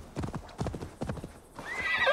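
Horse in the video game Assassin's Creed Valhalla, several quick bursts of hooves clip-clopping, followed by a loud rising neigh that fills the end.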